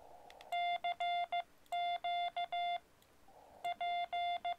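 Morse code from an amateur radio transmitter at a Parks on the Air activation near Fisher Towers, sending a CQ POTA call as groups of short and long steady beeps with brief gaps, loud and close, with faint background hiss between bursts.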